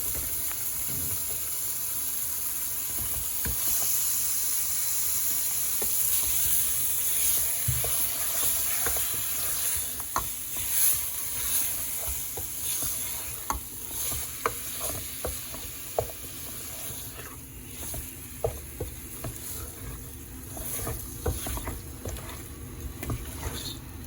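Sole fish frying in spiced oil for a potato curry, a steady close sizzle with broadband hiss and scattered crackles and pops, plus occasional clinks of stirring throughout.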